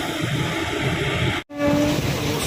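The Mangala Lakshadweep Express rolls out of Gwalior with a loud, steady rumble and hiss of wheels and carriages. A brief dropout comes midway, then the running resumes with a faint tonal whine.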